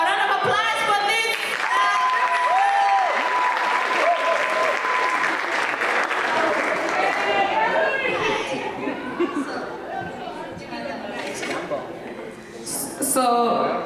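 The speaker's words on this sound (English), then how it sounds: "A round of applause for this." Audience applause at a gathering, loud clapping mixed with cheers and chatter from the crowd, with voices talking and a few laughs over it as the clapping gradually thins out.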